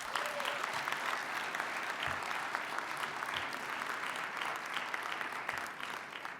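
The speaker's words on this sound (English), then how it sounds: "So you can please give them a big round of applause." A conference audience claps for the event sponsors in a sustained round of applause, loud and continuous, with a faint murmur of the crowd underneath.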